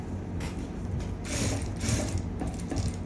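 A sewing machine stitches elastic into a palazzo waistband, giving a quiet, rapid mechanical clatter in short repeated bursts, needle and gears ticking steadily close by with no speech.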